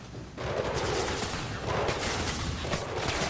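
Rapid bursts of automatic gunfire from a firefight in the video game Mirror's Edge Catalyst, loud and sustained with repeated volleys throughout and no talk over it.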